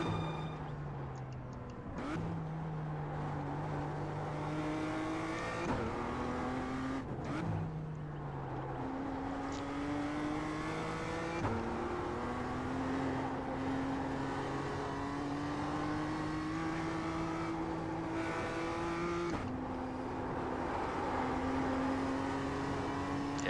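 A BMW M2 CSR race car engine in the iRacing simulator drones steadily at moderate level, its pitch climbing through each gear and dropping sharply at upshifts, repeating several times over the lap.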